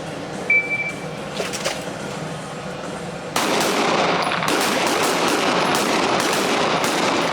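Pistol shots from a Wilson SFX9 during a shooting drill at a range, a burst of rapid cracks after a sudden loud start, with more shots from nearby shooters overlapping in quick succession.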